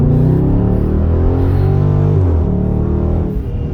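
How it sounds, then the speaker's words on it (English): A 2020 Dodge Charger 392 V8 pulls hard under acceleration, loud and close with a deep engine note climbing in pitch before dropping at a shift and easing off near the end. "But I do leave in a hard acceleration if I got the room"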